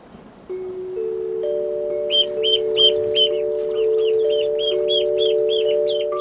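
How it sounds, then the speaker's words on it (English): Newly hatched chicks in a poultry hut on a Victorian-style farm peep in a rapid, regular series of high chirps over a steady droning tone, close by and fairly loud. "There's better news in the poultry hut, where the chicks have hatched."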